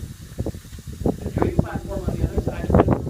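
A live steam locomotive at the Golden Spike site in Promontory Point, Utah, hisses steadily in the background while someone talks nearby, with the hiss swelling near the end.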